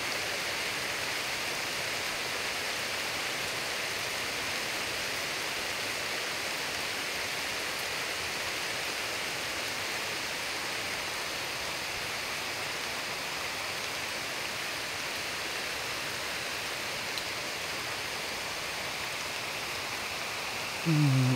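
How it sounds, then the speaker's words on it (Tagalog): Steady, even hiss of rain falling, constant and continuous throughout, with no voices or other distinct sounds standing out. "Ulan na naman."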